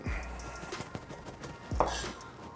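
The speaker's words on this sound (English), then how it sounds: "So we're going to chop the garlic up fairly fine" A knife minces garlic on a cutting board. Several sharp, close chopping taps come in an uneven rhythm, with a louder knock near the middle.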